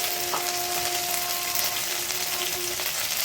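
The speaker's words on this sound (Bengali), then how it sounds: "আমার ফোড়ন ভাজা হয়ে গেছে, আদাটাও মোটামুটি লাল হয়ে গেছে" Whole spices and ginger fry in hot oil with a steady, close sizzle and crackle, a faint tonal hum running underneath.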